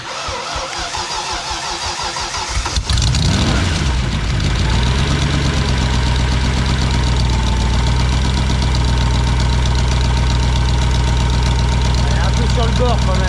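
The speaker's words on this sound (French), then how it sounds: "On va procéder au démarrage." A Ford Mustang engine on a dyno cranks, catches and fires up at about three seconds, then settles into a loud, steady, rumbling idle that holds for the rest of the stretch.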